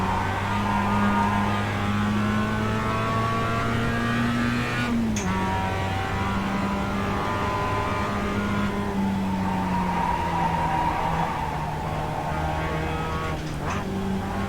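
A race car laps the Mid-Ohio road course, its engine droning loudly and steadily with pitch climbing and dropping through shifts and corners, with brief sharp bursts around the middle and end.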